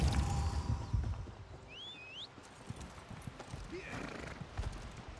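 A horse in The Elder Scrolls Online clip-clops with a loose run of hoof strikes and lets out a high whinny, set against outdoor game ambience, with a brief rumble at the start.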